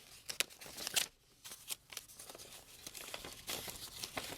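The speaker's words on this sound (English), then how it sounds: "So let's see what's in the secondary envelope." A paper envelope is torn and opened by hand, with sharp crinkles and ripping bursts, a brief quiet gap, then more rustling and tearing of paper heard up close.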